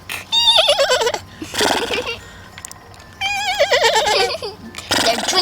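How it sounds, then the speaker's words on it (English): A toy horse's recorded neigh sounds twice as wavering, whinnying tones, loud and near, with short bursts of other toy sounds in between and children's play around it. "I love when she neighs."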